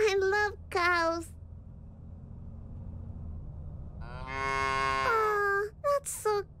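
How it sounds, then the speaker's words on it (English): Cows moo in the video game Little Misfortune, with two long, drawn-out lowing calls separated by a quiet pause over low background music. A brief voice follows at the end. "There's a bunch of cows on the field. Oh, I love cows."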